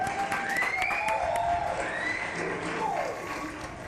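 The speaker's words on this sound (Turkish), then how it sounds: "Omega Alkışlayın" A stage audience claps and cheers for a doctor's comedic talk, a dense steady wash of applause running throughout with voices calling out over it.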